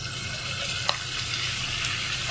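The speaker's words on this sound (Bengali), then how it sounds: "চুলায় একটা প্যান বসিয়ে দিয়েছি এবং চুলাটা জ্বালিয়ে প্রয়োজনীয় তেল নিয়ে নিচ্ছি" Oil heats in a pan on the stove for a chicken pocket roll, giving a steady close sizzle with a couple of sharp pops.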